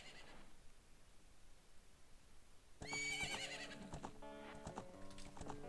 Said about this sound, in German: ob Epona dann hier angetapert kommt